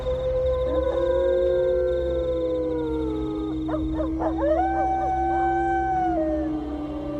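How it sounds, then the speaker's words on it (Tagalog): Successive drawn-out howls of an aswang creature in a Capiz village horror tale, overlapping wails rising and falling over a steady low rumble, loud and sustained with no talking. "Bigla akong nataranta ng marinig ang sunod-sunod na alulong ng aswang, Madam Venus."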